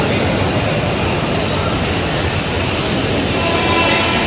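Train noise at Nashik railway station, a steady loud broadband rumble and roar filling the whole stretch without letup, with no clear horn.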